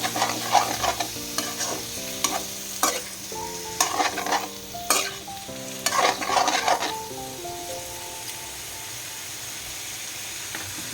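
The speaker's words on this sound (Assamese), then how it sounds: "এইখিনি ভালদৰে লৰাই লৈ ভাজি থাকিম যেতিয়ালৈকে আলুখিনিও ভালদৰে সিজি নাযায়" Jackfruit pieces and potatoes fry together in a pan, sizzling steadily as a utensil stirs them with repeated scraping clatters, the stirring busier early and the sizzle settling later.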